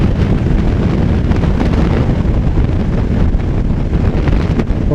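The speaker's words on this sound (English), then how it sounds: "Oh, I can feel the wind" Loud, steady wind buffeting across the microphone of a vehicle travelling at about 76 miles an hour on an open road, a continuous broadband roar with no pauses and no speech.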